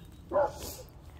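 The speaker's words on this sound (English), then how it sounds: "My dogs must see somebody, so that's why they're barking." A single short dog bark rings out from a backyard where a chicken run is being built, moderately distant against quiet outdoor background.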